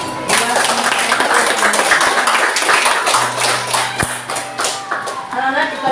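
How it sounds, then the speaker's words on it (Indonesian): Schoolchildren clap their hands in a classroom during a Hindu religion lesson, a dense burst of applause with scattered taps running throughout, mixed with voices talking over it. "Mari kita kasih aplaus buat kelompok semuanya."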